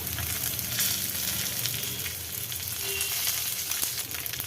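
Urad dal, chana dal, dried red chillies and curry leaves sauté in hot oil, giving a steady close crackling sizzle with faint stirring scrapes throughout, no voices.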